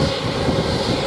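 A jet airliner rolls along the runway at Montego Bay airport in Jamaica, giving off a steady, loud broadband engine roar that holds even for the whole moment.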